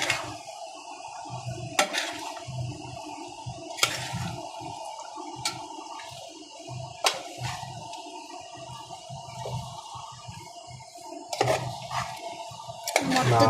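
Date and lemon pickle being stirred in a pot, with a steady soft scraping and several sharp clinks of a spoon against the metal, close and fairly quiet throughout.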